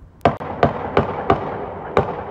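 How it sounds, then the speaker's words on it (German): Gunshots fired through a church window during a shooting in Hamburg, a series of about six sharp loud cracks at irregular intervals, each with a short echoing decay, recorded from a distance outdoors. "Dann folgen weitere Schüsse."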